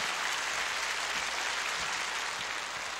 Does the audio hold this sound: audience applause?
yes